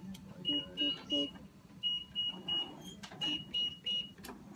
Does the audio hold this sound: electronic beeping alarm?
yes